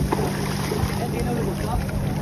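Motorboat ride out for island hopping, the hull and engine giving a steady low rumble with constant wind noise over the microphone and choppy water throughout; faint voices sit in the background.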